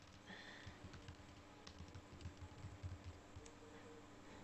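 Quiet typing on a computer keyboard, a run of light irregular key clicks and taps at close range against a faint background hum.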